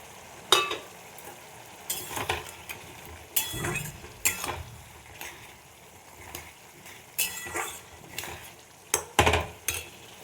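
Bori lentil dumplings frying in ghee, a soft sizzle under repeated scrapes and clinks of a spoon stirring against the pan, with irregular sharp bursts.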